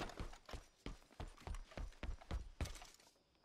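Rhythmic clip-clop of horse hooves in Red Dead Redemption 2, about a dozen evenly spaced, close thuds at a trotting pace, with no talk over them.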